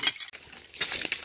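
An old milk glass jar with a rotted lid is handled up close, giving a few bright clinks and knocks of glass in quick, irregular succession with no talking.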